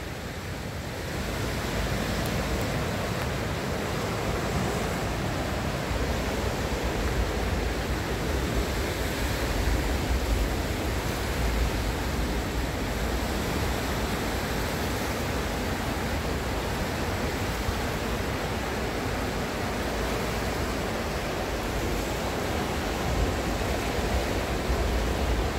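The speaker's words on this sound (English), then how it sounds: "You can hear the river, the noise of it." A river running high beneath a road bridge, a steady, loud broadband rush of water that continues unbroken and alone.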